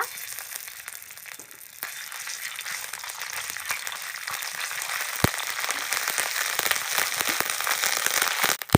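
Ginger paste hits hot ghee in a wok and sizzles loudly and steadily, a dense crackling hiss that builds slightly and carries on without a break, with sharp pops scattered through it.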